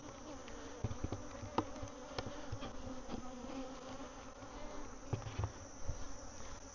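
Honeybees drone around a strong hive in a bee yard, a soft continuous buzz with a few individual bees passing close by in brief louder swells.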